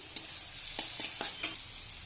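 Prawn and vegetable curry being stirred in a pan after roasted cumin and coriander powder is added, with a soft continuous sizzle and several quick spatula scrapes and taps close by; no talk.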